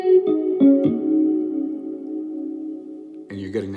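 Electric guitar played through a Sonulab pedal with only reverb engaged, a few picked notes ringing into a long sustained tone that decays smoothly, then a brighter strummed burst near the end, close and fairly loud.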